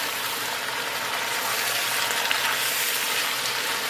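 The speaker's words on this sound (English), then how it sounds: "This is how you fry them down." Cabbage frying down in bacon grease in a deep pot, a loud, continuous hissing sizzle with steady bubbling and no breaks or talking.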